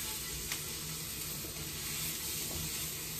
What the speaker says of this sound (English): we're going to scrape this skillet to get all of that good stuff.